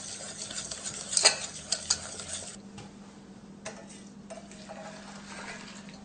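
Hot milk poured gradually into eggs in a pan over low heat, then whisked: a few sharp metallic clinks and scraping stirs early on, followed by a soft steady hiss and light stirring, close and quiet.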